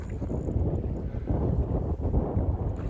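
Steady wind buffets the microphone during kayak fishing on open water, a continuous low roar with gusty swells and no clear voices.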